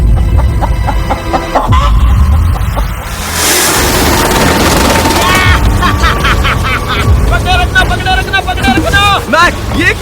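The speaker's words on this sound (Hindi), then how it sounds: "मैंने मुर्गी पकड़ ली।" A chicken clucks on a remote island while people talk loudly nearby, its short calls mixed with chatter and outdoor background noise.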